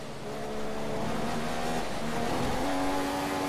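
A Sauber F1 car engine in F1 2015 drones steadily near the Spanish circuit's final corners, the tone holding and then stepping up as it pulls in third gear.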